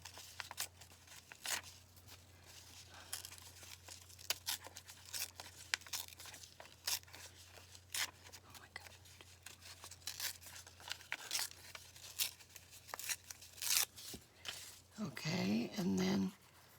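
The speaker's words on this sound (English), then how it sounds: "I'm going to tear off this wonky edge." Paper torn by hand to remove an uneven edge during a craft project, quiet scattered rips and crinkles over a steady low hum, building to a louder, longer tear near the end.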